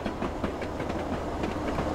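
A two-mile-long freight train in the Train Simulator 2015 game rolls over the rails with steady, evenly spaced clickety-clack beats under a continuous broad rumble, with no voices.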